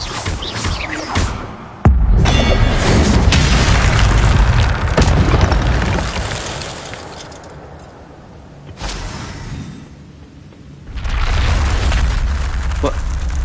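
A spell blast in the Hogwarts Legacy game, a sudden loud booming burst followed by rumbling magical energy that swells, fades and surges again, with voices speaking over parts of it.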